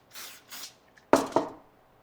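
Spray adhesive hisses onto the back of a paper circle in short bursts: two soft puffs, then two sharper, louder sprays close by.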